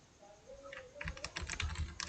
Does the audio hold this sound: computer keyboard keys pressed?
yes